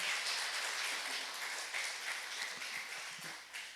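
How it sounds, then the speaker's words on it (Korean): A congregation claps for the church band at a Sunday worship service, a soft, steady, fairly distant patter of hands lasting several seconds with no talk over it. "우리 밴드를 위해서 한번 박수 한번 쳐주시기 바랍니다"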